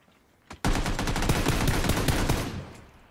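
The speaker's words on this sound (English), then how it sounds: "Suppressing fire!" Sustained automatic gunfire rattles in a video game, a loud, dense burst of rapid shots lasting about two seconds after a single lead-in shot, then cutting off.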